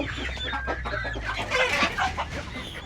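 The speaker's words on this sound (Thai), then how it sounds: "นี่ครับไก่ นี่บรรยากาศไก่ยังไม่แรง" Several chickens cluck and chatter close by in a busy, overlapping flock, with a low hum running underneath.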